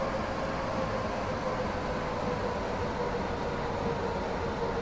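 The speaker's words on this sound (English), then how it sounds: "Is that an express train and a slow train coming?" Steady broadband rumble and hiss of trains on the Metro express line, heard from inside a carriage while an express and a slow train pass, a constant close roar with no talk.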